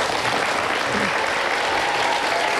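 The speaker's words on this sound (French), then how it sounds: "Ça valait bien une salve d'applaudissements." Stadium crowd applauding footballer Jean-Pierre Papin, number 27, a dense sustained roar of clapping from a large distant mass of spectators, steady and loud throughout.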